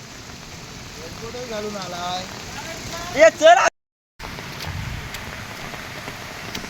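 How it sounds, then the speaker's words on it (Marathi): Heavy monsoon rain pours down in Konkan, a steady dense hiss with a voice speaking briefly over it and a short moment of silence partway through. "पाऊस एवढा जोरात पडलाय की डबल अतिवृष्टी झाली आहे"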